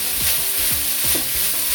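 Fried rice with shrimp and vegetables stir-fried in a pan, lumps pressed apart, with a steady loud sizzle and several rhythmic scraping strokes of the spatula close by.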